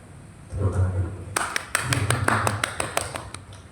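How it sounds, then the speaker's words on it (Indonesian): Audience at a panel discussion on an arts market in Sidoarjo breaks into scattered clapping, a series of sharp individual claps after a brief spoken phrase, moderately close. "Tepuk tangan dulu."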